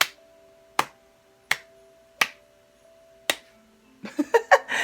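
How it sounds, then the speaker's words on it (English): A slow clap of five single sharp hand claps spaced about a second apart, close and crisp in a quiet room, followed by a brief burst of quicker louder sounds at the end. "So kudos, slow clap"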